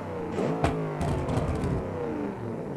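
The Rusty Drag truck's engine in the BeamNG driving game, a loud, close rev that rises and wavers with a sharp clattering burst partway through, running steadily throughout.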